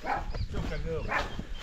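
Farm dogs bark and yip in short bursts at a moderate distance, mixed with people talking over them throughout.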